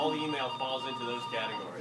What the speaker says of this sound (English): So anyway, that's my phone.